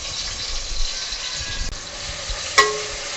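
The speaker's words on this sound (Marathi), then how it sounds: "अर्धा कांदा तेलामध्ये ब्राऊन कलर होईपर्यंत तळून घेणार आहोत" Half an onion frying in hot oil over a high flame, a steady soft sizzle throughout with a couple of brief clinks of a utensil against the pan, no voices.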